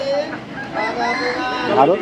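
Ducks and chickens at the Birnagar desi fowl market cluck and honk close by, with calls rising toward the end amid busy market murmur.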